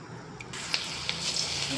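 Refined oil sizzles in a hot wok with a steady close hiss and a few sharp crackling pops, brief and moderately loud, with no talk.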